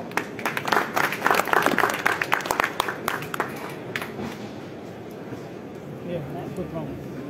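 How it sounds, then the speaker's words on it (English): An audience at the SPREADING JOY launch during IIJS Signature 2024 breaks into a burst of clapping that swells, then thins and fades, with a voice talking over it. "Round of applause from everyone"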